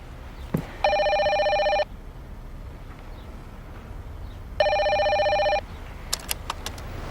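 A telephone rings twice in a home, each ring a loud, steady electronic trill about a second long, separated by a few seconds of quiet room tone, followed by a few faint clicks.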